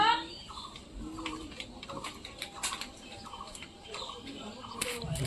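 A farmyard rooster kept with hens gives short, rough clucking and gobbling calls, a few scattered bursts close by, with a voice faintly present in the background.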